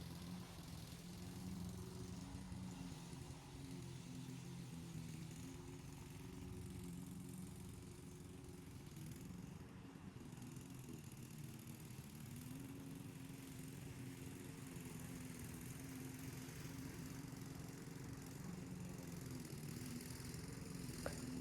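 A lawn mower drones steadily while mowing a marshy front yard, with a constant low engine hum at even, moderate loudness throughout.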